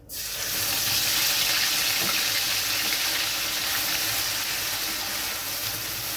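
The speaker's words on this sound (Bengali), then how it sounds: "এবার আমি দিয়ে দিচ্ছি ধনেপাতা, কাঁচা লঙ্কা, টমেটো আর রসুনের পেস্টটা।" Coriander, green chili, tomato and garlic paste dropped into hot oil with black cumin, bursting into a loud, steady, close sizzle that holds strong for several seconds.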